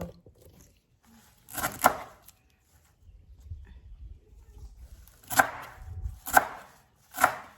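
A knife chops food on a board in a few sharp, separated strikes while preparing Thai grilled chicken, with quiet background noise in between and no talking.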